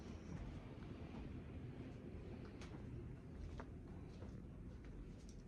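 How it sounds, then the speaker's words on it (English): Strong wind buffets the microphone outdoors on a farm, a steady broadband roar with low rumbling gusts throughout, loud and continuous with no other clear sounds. "apologize for the wind outside"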